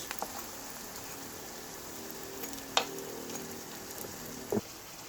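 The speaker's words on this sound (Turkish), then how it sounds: "Böreklerimizin her iki tarafı da nar gibi olana kadar bu şekilde kızartıyoruz ve çeviriyoruz." Steady crackling sizzle of muska börek pastries frying in hot oil, continuous and even, with a couple of sharp utensil clicks and a brief scrape.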